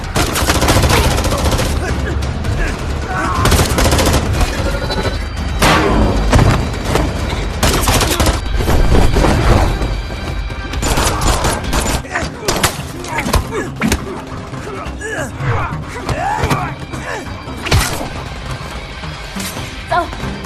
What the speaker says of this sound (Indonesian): Mereka kembali terlibat kontak senjata di luar gedung.